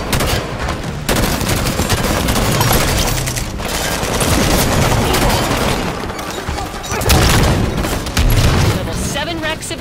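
Enemy weapons fire during a Warzone match on Raid on Apex 7 in Halo 5: Guardians, with Promethean forces and a Phaeton overhead: dense, continuous bursts of shots and booms filling the whole stretch, with brief pauses, loud and close.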